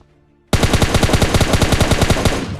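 Automatic gunfire in the PUBG Lite video game: after a brief quiet moment, a loud, rapid burst of about twenty evenly spaced shots rings out close up and then stops abruptly.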